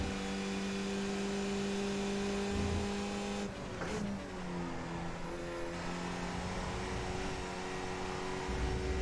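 Steady engine drone of a race car in the iRacing sim, holding a sustained tone with a shift and brief dip midway before pulling on again, loud and continuous.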